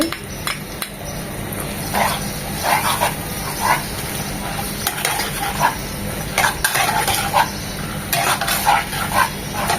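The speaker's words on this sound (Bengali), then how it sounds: "এটাকে এক মিনিট ভেজে নেব যেন আদার ঝাঁঝাল গন্ধটা চলে যায়" Chopped onion, ginger and garlic fry in a pan with a soft continuous sizzle, broken by the repeated scrape and clink of a spoon stirring against the metal.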